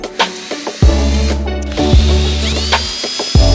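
A drill with a countersink bit cuts into plywood in three or four close, loud bursts of whirring motor, each stopping abruptly, with faint clicks and handling sounds between them.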